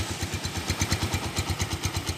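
A 2012 Honda Tiger Revo motorcycle engine throbs in fast, even pulses, revved close up and loud with a rough, rattly edge, heard alone.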